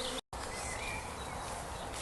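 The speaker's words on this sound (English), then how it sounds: "So a few bees left here and this swarm here." Bees from a swarm buzz near a hive outdoors as rain approaches, a continuous close drone of many insects broken by one brief dropout near the start.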